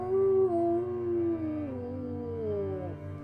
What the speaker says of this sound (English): He turns his head towards the north and lets out a melancholy howl.